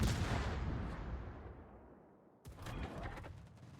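Warship guns firing during a naval battle in World of Warships aboard the Tier 8 premium cruiser Schill: a heavy booming salvo decays slowly, then a second sharp blast with crackling follows near the end, loud and close.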